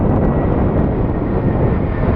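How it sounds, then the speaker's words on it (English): American Airlines Airbus airliner at Phoenix Sky Harbor International Airport, a steady loud broadband engine roar that holds constant throughout, with wind buffeting the microphone. "we have what appears to be an American Airlines Airbus"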